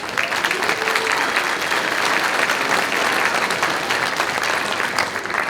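An audience at a winter band concert gives a round of applause, loud and continuous clapping that fills the hall without a break from start to finish.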